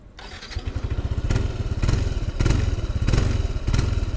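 A Yamaha NMax 155 scooter engine, a larger-displacement 155 cc motor, idles and revs up close by with a loud, throbbing rumble and periodic surges in intensity, with no talking over it.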